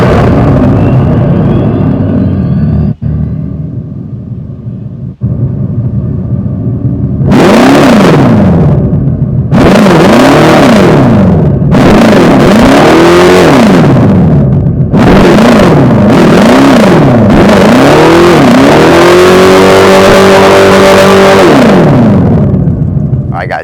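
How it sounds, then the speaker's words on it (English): A 2025 Dodge Charger Daytona Scat Pack with the Fratzonic chambered exhaust sounds a loud, close synthetic engine tone that swoops up and down through repeated rev bursts, after a quieter idle-like hum. "that was the sound of the Fratzonic chambered exhaust for the 2025 Dodge Charger Scat Pack"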